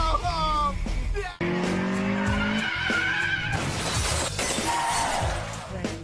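Street-race car crash: tires screech and skid hard, then a sharp burst of shattering, over a roaring engine and continuous loud motion that fades toward the end.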